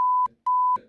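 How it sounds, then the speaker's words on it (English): Two flat electronic censor beeps, each steady and about a quarter second long, separated by a short gap with faint clipped sound after each. "Now you're hearing beeps all of a sudden."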